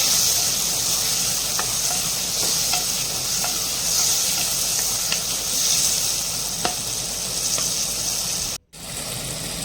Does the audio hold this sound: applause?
no